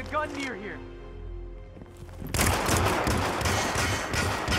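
Rapid gunfire bursts in the Hitman video game, loud and dense after a brief stretch of someone talking, continuing steadily to the end.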